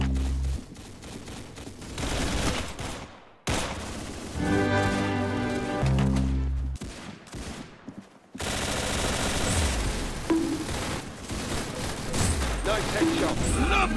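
Video game gunfire comes in dense, rapid automatic bursts with sharp single shots between them. The shooting is loud and close and breaks off in short gaps, and voices speak over parts of it.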